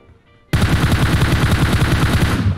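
Loud, sustained automatic gunfire from the PUBG Mobile battle royale game bursts in after a brief quiet moment and keeps going as rapid, evenly spaced shots for about two seconds.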